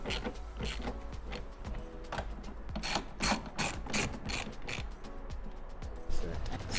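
A ratchet tightens bolts on the mirror of a 2002 Toyota Corolla, giving quick bursts of rasping clicks in uneven runs, close by, with some quiet talking mixed in.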